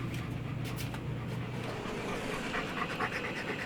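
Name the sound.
dogs panting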